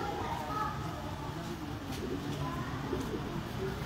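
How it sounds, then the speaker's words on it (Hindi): Pigeons in a breeding loft in Islamabad coo steadily under a constant hum of background noise, soft and close, with faint voices in the distance. "एंटीक कबूतर है,"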